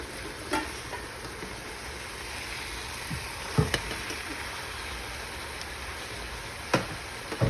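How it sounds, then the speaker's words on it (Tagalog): Chicken breast, seasoned with black pepper and a little salt, sizzles steadily as it pan fries in a little oil, a continuous soft crackle with a few brief louder pops and clinks, no talking. "Now we pan fry this one."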